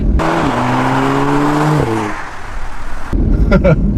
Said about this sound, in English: That was a first sort of full throttle acceleration.